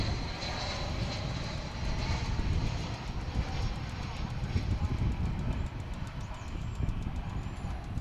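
An American Airlines jet at Dallas/Fort Worth Airport, a loud sustained engine roar with a rumbling low end and a high whine on top, steady over several seconds.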